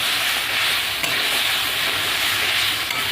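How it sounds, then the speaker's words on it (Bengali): Small fish frying with salt, turmeric and chillies make a loud continuous sizzling hiss close by, dense and unbroken throughout. "এটাকে আমি ভালো করে ভেজে নেবো।"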